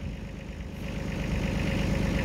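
A Japanese 16-horsepower Kubota compact tractor engine runs steadily while plowing soft soil, a close, even, throbbing drone that builds slightly in loudness.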